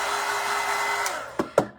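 A hair dryer drying orange craft paint on a Dollar Tree bunny craft, a steady close whooshing hum that runs nearly throughout, then cuts off with two short clicks near the end.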